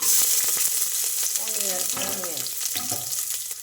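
Onion dropped into hot oil for a spinach rice dish, a loud crackling sizzle that settles into a steady fry with a few utensil taps and a faint voice murmuring underneath.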